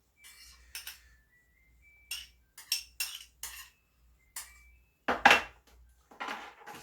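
A metal spoon clinks and scrapes against a dish while scooping up salt and pepper for gout-friendly egg salad sliders: a series of sharp, close taps with short pauses between them and no voices.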